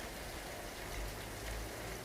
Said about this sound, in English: The same day it rained.